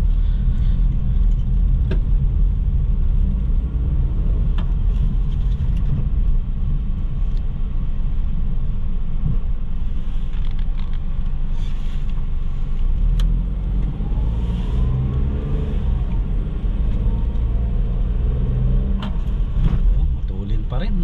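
A repaired car engine, either a Toyota Wigo or a Kia Sportage that had a knocking fault, runs steadily with a low continuous rumble while driving, with occasional voices over it.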